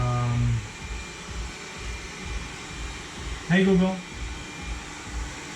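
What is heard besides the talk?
Google-controlled robot vacuum cleaner running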